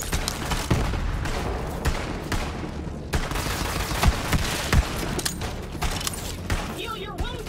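Rapid gunfire from Borderlands 3 rattles in dense, continuous bursts with sharp individual shots scattered throughout, loud and close, over busy game noise.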